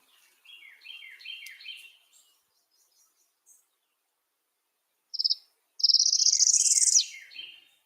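Northern parula warbler song: a series of thin, buzzy rising trills, then a louder ascending buzz that snaps off at the top, repeated twice, close and clear with no talk.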